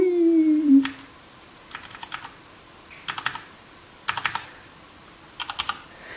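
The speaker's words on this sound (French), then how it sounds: "Mon tout nouveau clavier." A brand-new backlit computer keyboard is typed on in short bursts of crisp, close key clicks, about five clusters of rapid strokes separated by quiet pauses, with a brief tone at the start.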